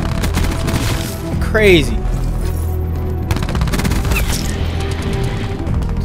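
Rapid bursts of Switchblade X9 SMG fire in a video game crackle through a dense, loud mix of explosions and game noise, with a voice briefly speaking over it.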